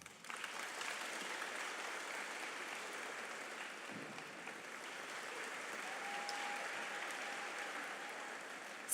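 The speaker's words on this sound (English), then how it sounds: "Please rise and give them a round of applause." Sustained audience applause at Thorne Middle School's promotion ceremony, a dense, steady wash of clapping from a large crowd that holds at an even level for the whole stretch, with no voices rising above it.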